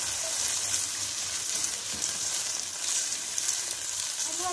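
Chicken seasoned with salt and crushed red chilli fries and hisses in a pan while being stirred, a steady close sizzle with faint scraping and no talk.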